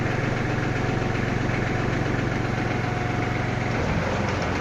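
A Kubota GL29 mini tractor engine runs steadily up close, a loud, even diesel throb that holds without variation the whole time, with no voices.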